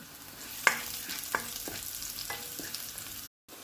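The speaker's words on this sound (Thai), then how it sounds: "นี่ทำการผัดนาง คนเดียวนะเนี่ย กระมัง ผัดกับเต้าเจี้ยว" Vegetables stir-frying with fermented bean paste in a pan: a soft, steady sizzle broken by a few sharp utensil scrapes and taps, close and moderately quiet, ending in a brief silence.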